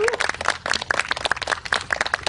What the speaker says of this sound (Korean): 수고해주신 문센트에게 다시 한번 박수 부탁드립니다.